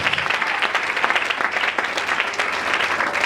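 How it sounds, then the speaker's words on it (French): A church congregation applauds and cheers for the Lord, a dense, loud wash of clapping that holds steady throughout with no clear voices on top. "Acclame-moi très fort pour le Seigneur."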